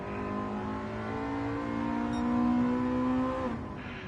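A car engine in Gran Turismo 7 hums steadily and close, its tone climbing as it revs before easing off, with no talk over it.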